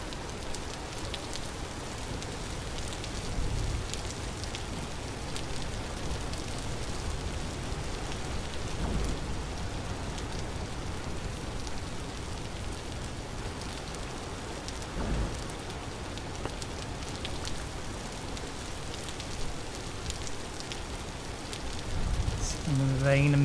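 Steady, dense rain hisses through a temporal storm in the video game Vintage Story, continuous and moderately loud, with a few low rumbles of thunder beneath it.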